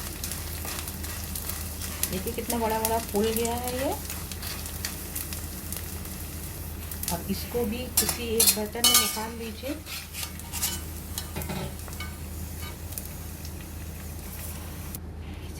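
Gond (edible gum) roasting in a pan over a low flame, a soft steady sizzle with a spoon scraping and clinking against the metal as it is stirred, while someone talks over it.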